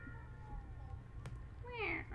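A creature in Subnautica: Below Zero gives a short, rising meow-like call near the end, heard over low game ambience and a muffled voice.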